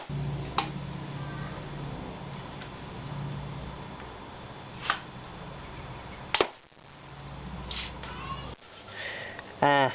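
A 50lb Anglo Arms crossbow is shot into a thick, sturdy piece of wood such as a bed slat, giving a few sharp snapping thwacks and clicks spread across a quiet background with faint handling noise.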